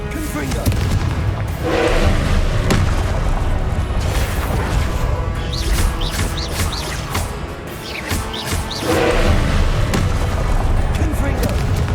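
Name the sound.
Confringo explosive spell blasts in Hogwarts Legacy video game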